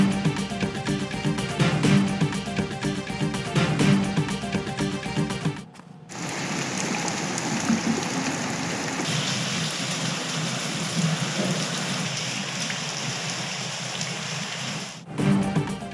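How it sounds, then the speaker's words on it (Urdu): Steady rain falls across Malir, Gulshan-e-Hadeed and the Super Highway in Karachi, a dense continuous hiss of drops running for about ten seconds between short breaks, with no voices over it. "ملیر، گلشن حدید اور سپر ہائی وے پر بارش"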